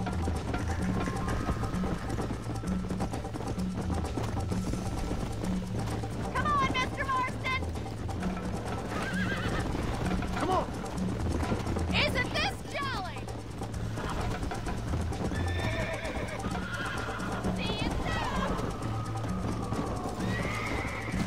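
A horse in the Red Dead Redemption video game gallops with a steady clip-clop of hooves and lets out several loud whinnies and neighs. Game voices and ambient sound run underneath.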